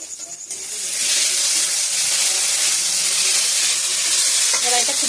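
Pre-fried potatoes with salt and spices sizzle loudly in hot oil in a pan as they are stirred for a fish roe curry, a steady close frying hiss with faint scraping.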